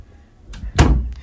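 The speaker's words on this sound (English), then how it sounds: "Close that door." A single door closes with one firm thud, preceded by a faint rustle, heard close in an otherwise quiet indoor room.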